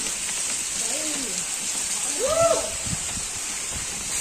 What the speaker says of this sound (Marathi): हलकासा पाऊस चालू आहे.